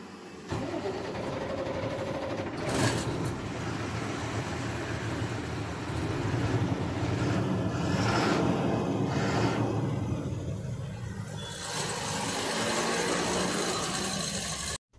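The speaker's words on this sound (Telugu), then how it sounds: "ఇక బండి స్టార్ట్. ఇది బండి అయితే లైలాండ్ బండి అండి, ఇది అశోక్ లైలాండ్ బండి." An Ashok Leyland truck engine cranks and catches, then settles into a loud, steady diesel idle that runs close by for several seconds before cutting off abruptly.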